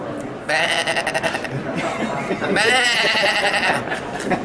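A voice mimics a sheep's bleating in two long, wavering baa sounds, loud and close, with a short pause between them.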